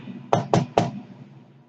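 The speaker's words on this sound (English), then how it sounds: "no one should be pounding on the door" Three heavy, hollow knocks land on a front door at a steady pace, close and sharp, then fade into quiet.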